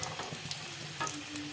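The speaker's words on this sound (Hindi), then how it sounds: "इस तरीके से हम फ्राई कर लेंगे।" Potato chicken cutlets fry in a pan with a faint, steady sizzle and crackle, heard alone without talk.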